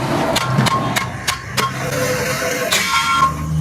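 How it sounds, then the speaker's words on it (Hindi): Hammer blows seat a lock ring onto a tyre rim during a tyre side change, with several sharp metallic strikes at irregular intervals over a steady background of workshop noise. "उस पर हम बैठा देते हैं हथौड़ी से मार के"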